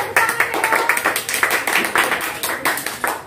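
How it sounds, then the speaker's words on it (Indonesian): Children and adults clap their hands at a kids' Christmas celebration, a brisk, uneven patter of many close claps with some voices mixed in. "Tepuk tangan bagi Tuhan Yesus. Tepuk tangan."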